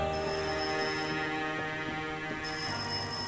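A telephone rings in the psychological horror game Rise of Insanity, a continuous electronic ringing layered over a steady droning game ambience, loud and close, with no voices.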